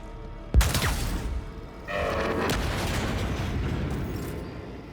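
A gunshot fired in the Warhammer 40,000: Dark Heresy video game, one sharp close crack followed by a rumbling boom and a long noisy tail, with no talking.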